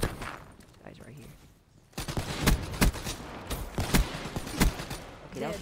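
Gunfire from a BRM in Black Ops 3, a few loud close shots spaced apart after a quieter opening, with game noise filling the gaps.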